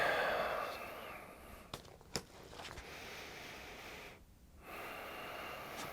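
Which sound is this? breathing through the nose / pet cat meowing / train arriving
breathing through the nose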